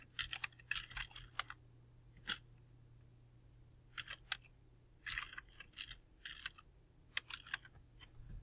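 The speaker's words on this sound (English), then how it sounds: "So I typed in my last name and then my part name, name plaque." Keys on a computer keyboard clatter in short bursts of typing separated by pauses, close and fairly quiet over a faint steady hum, with no one talking.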